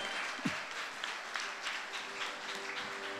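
Steady audience applause at a ceremony marking the 80th anniversary of the July 7 War of Resistance, honoring elderly veterans; a dense, even wash of clapping from a crowd, moderately distant, with a few sharper individual claps standing out.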